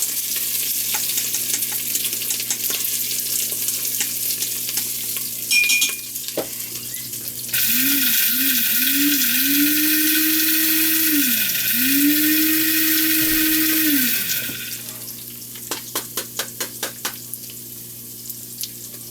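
Vegan kichuri browns in an Instant Pot, giving a soft hiss with scattered spoon scrapes, then a loud tonal whine joined by a bright hiss for several seconds, then rapid scraping stirs near the end.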